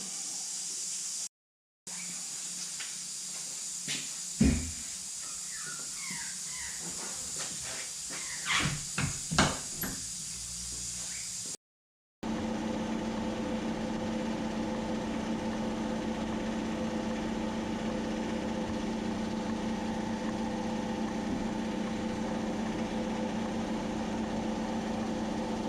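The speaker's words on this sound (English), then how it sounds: "they're ready to go in the blaster now, in the wet blaster." A wet blaster cleans motorcycle wheel parts, first with a few clattering knocks and clanks inside the cabinet, then a steady, loud hiss of spray running continuously for the rest of the clip.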